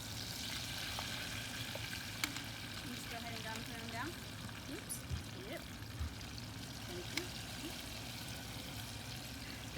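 Battered food frying in hot grease, a low, steady sizzle and bubbling with faint clinks and small splashes, fairly quiet throughout.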